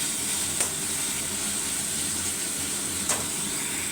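Spice masala of coriander, chili and cumin powder frying in a pan, giving a steady, even sizzle and hiss with two faint clinks of stirring, no voices.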